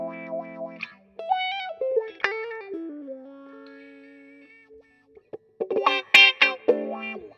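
Electric guitar on a Maestria Telecaster played through a Vox wah pedal with a touch of reverb, with sweeping vowel-like filtered notes, a sustained bend, then a burst of rhythmic wah-inflected chords near the end.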